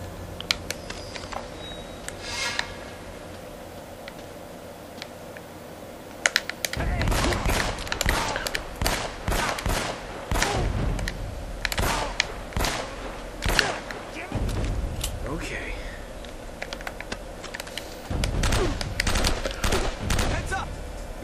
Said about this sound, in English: they have shotguns.